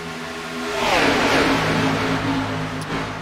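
Racing car engines in iRacing at a super speedway race, a loud revving drone that swells as cars sweep past around the one-second mark, then holds a steady whine alone.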